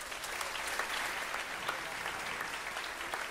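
An audience applauds to welcome the tenor René Kollo, a dense, steady wash of many hands clapping throughout, moderately loud with no talking over it.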